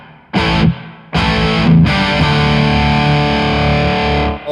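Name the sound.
guitar amp crunch with reverb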